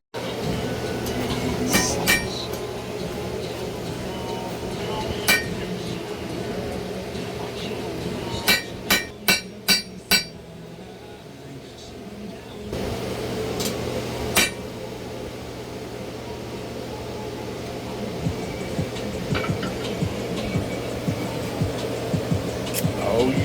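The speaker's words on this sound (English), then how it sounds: "I'm gonna go back in and just hit it with the flatter" A blacksmith's flatter is struck on a forged damascus steel knife blade, giving sharp metallic clinks. Most are scattered single hits, with a quick run of four or five in a row, over a steady roar of forge or fan noise.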